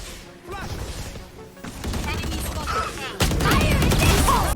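Gunshots from headshot plays in Valorant crack out in quick bursts, growing louder and denser toward the end, with a voice talking over the firing.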